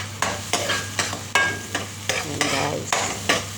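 Eggplant, onion and garlic frying in oil get stirred with a spoon, giving repeated scraping strokes roughly every half second over a steady close sizzle, with a brief spoken remark.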